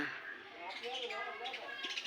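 Sparrows chirp in quick, scattered bursts at moderate distance, with a voice speaking over them.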